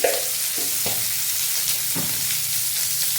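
Soya chunks fry lightly in a pan with a steady sizzle, punctuated by a few soft stirring clinks and scrapes.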